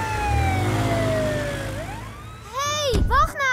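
A cartoon siren sounds from a fire truck in PAW Patrol, a steady descending wail that sweeps back up, followed by animated character voices talking over it.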